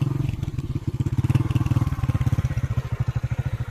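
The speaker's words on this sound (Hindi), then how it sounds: "125 बाइक, इतना इसकी खिंचाई यहाँ पे नज़र नहीं आ रही है।" A 125cc motorcycle labors up a steep mountain road in Gilgit-Baltistan, its engine pulsing in a fast, steady, close-up chugging rhythm throughout, with no talk.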